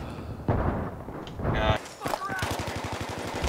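Gunfire in Battlefield 3 on the Metro Conquest map, with bursts of shots and explosive blasts followed by a rapid machine-gun rattle of evenly spaced reports, loud and close.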